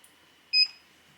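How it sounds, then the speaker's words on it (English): A single short, clean electronic beep from a TRAPLINK clay pigeon trap remote as it arms, sounding close and clear against near silence. "when I press this, you'll hear a beep, the trap won't fire, and it's armed waiting for me to call pull"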